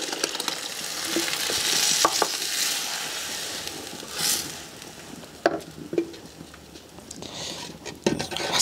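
Beans with broth poured into a pan with sausage and bacon, a continuous close sizzle and frying crackle with spoon stirring and occasional clinks against the pan.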